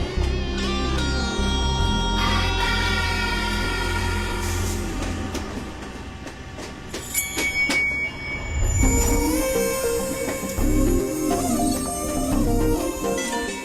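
A train pulls out of a station in a film scene, with a loud rumbling low drone, metallic squeals and clatter shifting as it moves, then brighter ringing tones toward the end.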